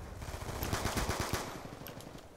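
Rapid gunfire in the Black Ops 2 game from an M1216 shotgun, a fast run of close, loud shots in a tight rhythm that fades slightly toward the end.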